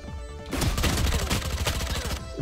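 Rapid gunfire in Valorant, a tactical shooter game, with a dense burst of shots filling roughly two seconds at close range after a brief quieter lead-in, with no talk.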